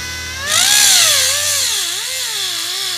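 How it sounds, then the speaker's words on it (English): A power tool saws through aluminum extrusion pieces, a loud, harsh whine that starts abruptly and wavers in pitch as the blade bites into the metal, close up with no voices. "We're going to cut up a little bit of aluminum extrusion right now"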